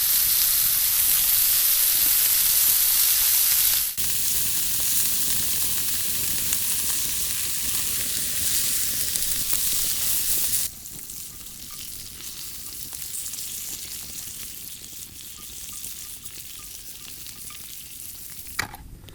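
Eggs fry in a pan at a desert campsite with a loud, continuous hiss and sizzle, close to the pan, that drops to a quieter sizzle partway through; no voices.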